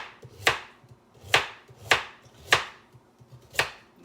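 Knife chopping large carrots into chunks on a cutting board, five sharp, separate chops at an irregular, unhurried pace, close and crisp with no talking.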